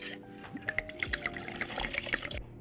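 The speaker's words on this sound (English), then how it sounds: "And then you want to add your milk just a little bit at a time." Milk poured a little at a time into cupcake batter for Lotus Biscoff cupcakes, giving a soft, close liquid splashing and dripping with small bright plops over about two seconds before cutting off.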